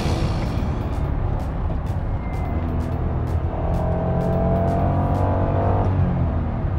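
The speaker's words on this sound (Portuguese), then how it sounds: "que barulho este VTEC" The engine of a yellow Honda NSX with VTEC roars steadily while the car is driven, loud and close, with the pitch climbing as it revs from inside the cabin.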